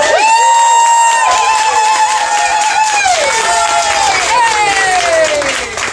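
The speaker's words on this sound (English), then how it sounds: "Big round of applause." A full-house audience at a poetry book launch in the Avid Reader bookshop in Brisbane applauds, loud sustained clapping laced with whoops and cheering voices.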